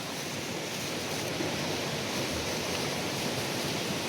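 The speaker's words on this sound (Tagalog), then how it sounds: "parang kumukulo yung tubig" Water bubbling at the Mainit hot spring in Caibiran, Biliran, a steady broadband hiss and churn like a rolling boil, continuous and fairly close with no talk over it.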